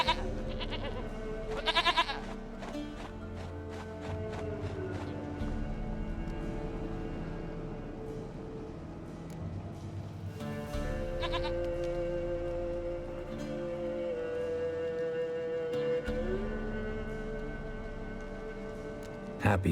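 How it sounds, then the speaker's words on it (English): A goat bleats in The Witcher 3, its cries standing out briefly over a continuous game soundtrack and ambient music. "Goat of mine, dearest, sweetest goat."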